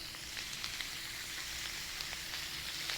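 Link sausages sizzle steadily on a 22-inch Blackstone griddle at a campsite, a continuous bright crackle with small pops scattered throughout and no talking.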